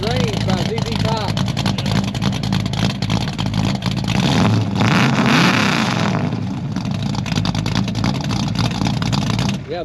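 An old car's exhaust rumbles and revs, a throaty engine note that swells and falls with a strong surge in the middle, while people talk over it.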